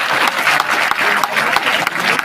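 An audience at a school annual day claps in a dense, sustained burst of applause, loud and close, over a couple of seconds.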